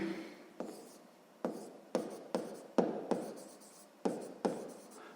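Pen writing a maths proportion by hand on paper, a series of about nine close scratchy strokes, each starting sharply and fading, in an irregular rhythm, no voice.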